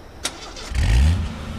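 In the game H1Z1, a car door clicks and then the engine cranks and catches, settling into a loud, rough, throaty idle close by.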